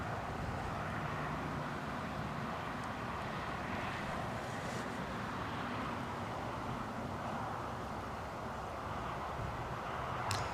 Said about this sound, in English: I'm going to guess is Ryanair's 737 inbound from Dublin